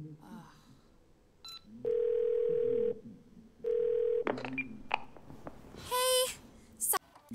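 Phone tones in the video game 12 Minutes after a call is hung up, two sustained electronic tone bursts about a second each, followed by other sharp game sounds and a brief voice.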